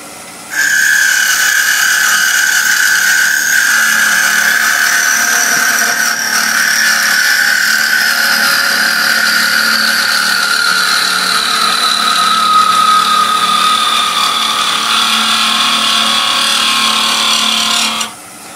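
A wood lathe turns a tiny tenon as a parting tool is fed in, giving a loud, steady whine with a slowly falling pitch that runs unbroken for about eighteen seconds and then stops.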